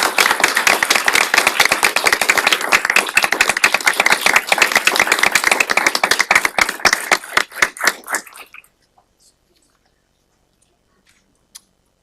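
Applause at a county commissioners' meeting: a room of people claps steadily for several seconds, then the clapping thins to scattered claps and stops, leaving near silence with a couple of faint taps.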